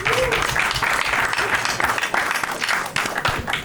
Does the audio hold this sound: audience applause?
yes